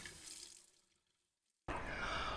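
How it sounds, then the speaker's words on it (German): Water running again from a tap in a camper van after a repair in Bulgaria, a steady close rushing flow that starts abruptly after a brief near-silent gap, following a softer trickle. "unser Wasser läuft wieder"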